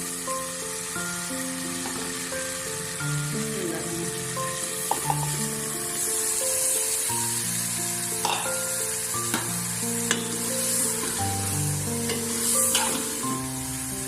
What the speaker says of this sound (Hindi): तो बैंगन को मैं 2 मिनट तक भूनूंगी